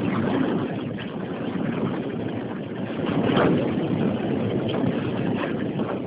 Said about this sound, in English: The wind is coming from the opposite side of that door and like rushing around.